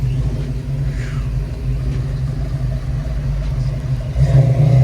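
Car engine rumbling in a parking lot as vehicles arrive at the Foxtoberfest 2024 open house, a steady low idling drone that swells slightly louder near the end, with no talking.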